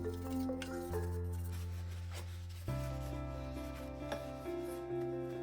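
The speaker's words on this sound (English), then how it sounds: "I'm just using Windex here just to get the thick stuff off" A titanium gravel bike frame, a Moots Routt45, is wiped down with Windex, giving soft squishing, rubbing strokes with a few wet drips, close and fairly quiet.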